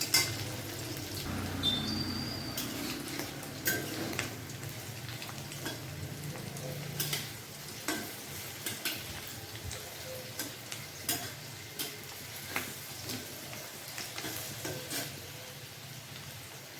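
Pea-lentil fritters (matar dal bora) sizzle and fry in a pan, a steady soft crackle with occasional stirring clicks and light utensil ticks throughout, no voices.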